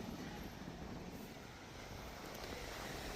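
Wind blows at a small beach cove on the Côte d'Azur, a steady, faint broadband rush with no voices, filling the short stretch evenly.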